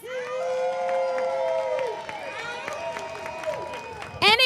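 Alumni crowd at a high school ribbon cutting ceremony clapping and cheering, with sustained voices, whoops and shouts, a steady mass of noise that swells into a louder burst at the end.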